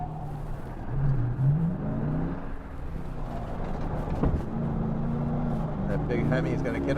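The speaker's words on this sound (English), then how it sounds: "That big Hemi is going to get up and go." A 2021 Dodge Durango SRT Hellcat with a big Hemi V8 pulls hard around a race track, its engine note rising and falling as it accelerates. Its steady roar runs under continuous talk inside the cabin.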